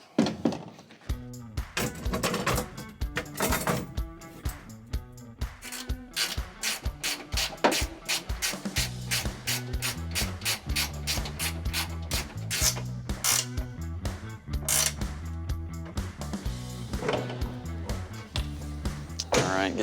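Racing seats being bolted into a BMW 330i: repeated ratcheting clicks and dull thunks of wrenches and brackets keep up a steady rhythm throughout, close and fairly loud.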